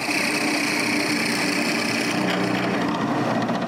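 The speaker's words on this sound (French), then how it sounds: "je dois percer 2 trous pour des goujons" A power drill bores dowel holes in a wooden nutcracker, a loud continuous grinding whir that stays level throughout, alone without talk.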